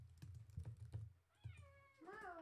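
A pet cat named Pixie lets out two rising meows close by, following a run of rapid computer keyboard typing clicks.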